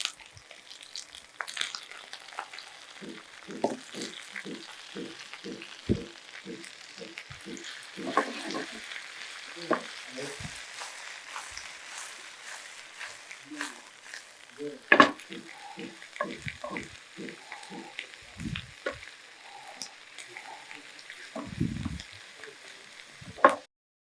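Amaranth greens and tamarind are sautéed in a pan in a studio kitchen: a soft, steady sizzle mixed with scraping stirs and light clinks of a spatula, close up and mostly quiet, with no speech over the cooking.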